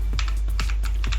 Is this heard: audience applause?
no